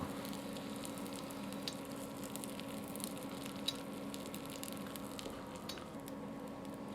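Breaded ham and cheese crêpes browning in a frying pan give a steady, even sizzle throughout, close and fairly quiet, with faint pattering crackles and no talk.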